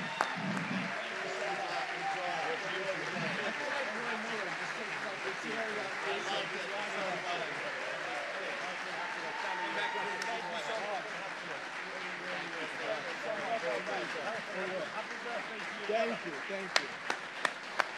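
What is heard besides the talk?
live audience applause in Washington DC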